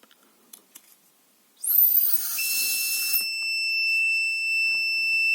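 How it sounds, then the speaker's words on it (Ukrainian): An AlcoFor 205 breathalyzer given a short, weak breath: a brief rush of blowing into the device, then a steady electronic beep that carries on alone, close and clear. "Якщо в алкотестер подути слабо або недовго, він також напише повідомлення R."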